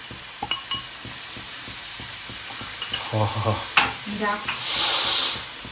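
Prawns hit hot coconut oil in a pan, crackling and sizzling with scattered utensil clinks and stirring scrapes, the sizzle swelling into a louder hiss near the end; no one speaks.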